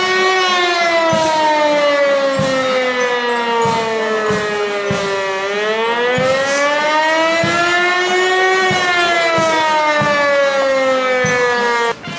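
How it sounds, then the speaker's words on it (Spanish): A fire station siren in Valdivia, Chile wails as a funeral procession departs, one loud, close, sustained tone that slowly falls and rises again, with rhythmic low thuds beneath it for about twelve seconds. "la sirena del que fuera su cuartel lo despidió con un ulular que enmarcó su salida desde ese lugar"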